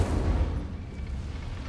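Incendio fire spell cast in Hogwarts Legacy, a deep booming burst that rolls and fades over a second or so, loud and close with no talk.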